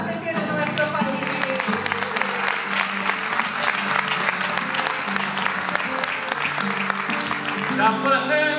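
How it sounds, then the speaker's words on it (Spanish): An audience applauds at a payada performance honouring Gabino Ezeiza, steady clapping from a crowd in a hall, with murmuring voices and some music underneath. "vamos a aplaudir ahora a todas las payadoras que tiene nuestro país"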